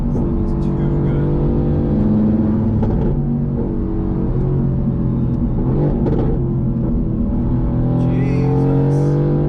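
A Mercedes-AMG GT sports car engine drones loudly and steadily from inside the moving car, its pitch rising and shifting as it accelerates.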